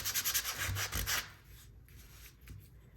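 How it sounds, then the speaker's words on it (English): Sandpaper rubbing over a small wooden ornament: quick, rhythmic scratchy strokes up close, a burst of rapid passes followed by a pause and a few lighter rubs, with no talking. "So I'm just gonna sand both sides because I'm gonna do a different variation on both sides."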